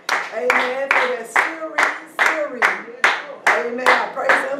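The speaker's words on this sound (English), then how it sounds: "Let's get Chief Apostle Gustin a hand clap of praise." A church congregation claps hands in praise, roughly ten loud, sharp claps in a steady rhythm, close by, with voices calling out between the claps.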